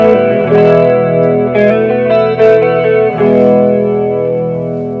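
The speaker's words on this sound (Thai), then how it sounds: "ตัวหนึ่งก็คอรัสนี่เป็นของ Ibanez เหมือนกันนะครับคอรัสมันจะเป็นการแบบไวเบอร์โตเสียง" An electric guitar runs through an Ibanez chorus pedal and rings out a few loud, sustained chords. Each chord has a wavering, vibrato-like shimmer, and no one speaks.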